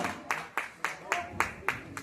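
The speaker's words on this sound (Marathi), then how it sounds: "नायक पुरस्कारासाठी जोरदार टाळ्या" An audience claps for the best actor award at a drama festival prize ceremony, with a short run of rhythmic, evenly spaced claps sounding close.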